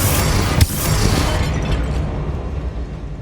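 A Bombarda blasting spell from Hogwarts Legacy detonates with a sharp, loud crack, followed by a dense, roaring rumble that slowly fades and thins out over a few seconds.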